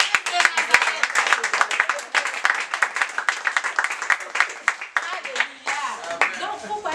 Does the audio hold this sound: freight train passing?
no